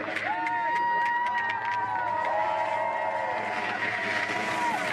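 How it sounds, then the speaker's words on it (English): Crowd cheering and calling out at the bottom of a para snowboard banked slalom course, a steady broad roar of many voices under a commentator's talk, with whistle-like tones rising and falling over it. "The support from the crowd at the bottom."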